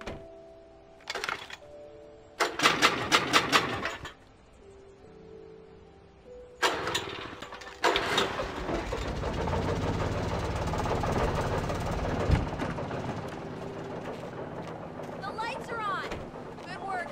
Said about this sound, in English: An old generator had been connected to the power cable.